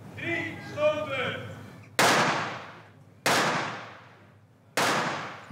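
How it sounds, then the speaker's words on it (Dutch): Three sharp, loud gunshot cracks spaced about a second apart, each ringing off with a reverberant tail, following a short stretch of speech. "3 schoten!"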